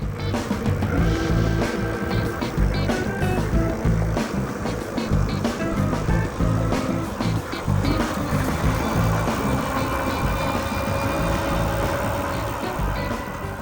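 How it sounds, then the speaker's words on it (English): Ecotric Rocket e-bike cruising on motor power alone outdoors, a continuous rush of wind and tyre rumble on the road throughout, loud and close. "I wanted to see how well this bike would do on just the motor alone"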